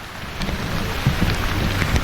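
Tropical squall sweeping over a sailboat on an Indian Ocean crossing, with steady rain hiss and low wind rumble at close range, occasional heavier gusts or drops standing out, no voices.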